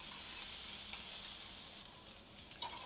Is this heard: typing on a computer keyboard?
no